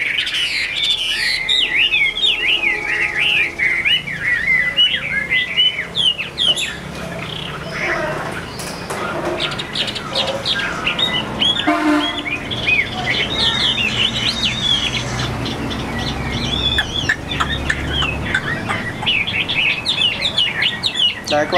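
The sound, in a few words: hwamei (ivory-billed songbird) singing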